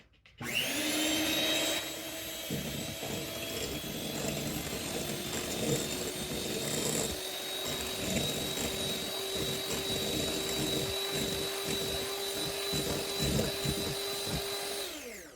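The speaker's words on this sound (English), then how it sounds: "I'm gonna just mix this up real quick" An electric mixer whirs steadily and loudly while blending two cups of milk with instant pudding mix, its motor hum running continuously for about fifteen seconds with faint rattling and no voices.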